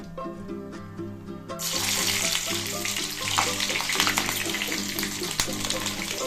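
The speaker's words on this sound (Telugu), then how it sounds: "లాస్ట్లో ఇలా పచ్చిమిర్చి వేసుకుని వేయించుకోవాలండి" Green chillies dropped into hot oil and frying, a dense hiss that rises suddenly over steady tonal background music, close and continuous with no voices.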